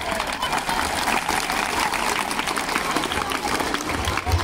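Audience clapping at a school farewell event for entering students, a busy continuous wash of claps mixed with crowd noise and voices in the background.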